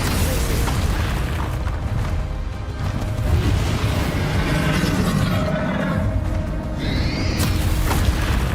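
Confringo fire spell blasting in Hogwarts Legacy, a loud booming explosion with rumbling bursts and a whooshing tail, continuous dense game noise throughout.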